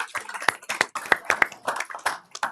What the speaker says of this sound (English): a round of applause for Tariq for starting us out